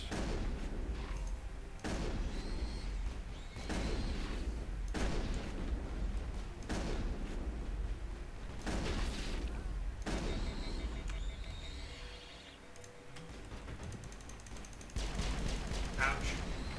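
Shotgun blasts in the video game Mass Effect 3, fired at a steady pace as repeated sharp booming shots amid battle noise, with a louder rapid burst near the end.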